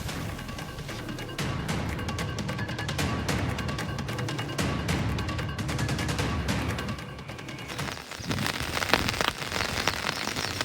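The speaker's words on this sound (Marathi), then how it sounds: "ठाणे, नवी मुंबईमध्ये पाऊस जोरदार कोसळतोय" Heavy monsoon rain pours down over Thane and Navi Mumbai, a dense, loud, steady roar of drops pattering hard on surfaces, with no voices heard.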